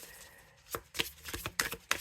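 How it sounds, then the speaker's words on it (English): An oracle card deck with a houseplant theme is shuffled overhand, giving quick, close papery riffles and soft slaps in an uneven burst lasting about two seconds. "Yeah, it's a good over shuffle."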